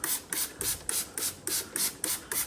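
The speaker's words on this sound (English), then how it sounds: "spraying it down, and this is just vinegar and water" Spray bottle misting vinegar and water onto wallpaper during wallpaper removal, about nine quick hissing squirts in an even rhythm, fairly quiet and close.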